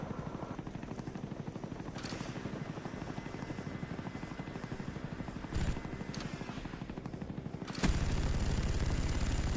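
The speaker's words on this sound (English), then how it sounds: "I think I get maybe 3 here with this chopper gunner." In Call of Duty Black Ops, a chopper gunner helicopter's rotor thrums steadily while its gun fires in bursts, including a louder burst near the middle and heavier sustained fire toward the end.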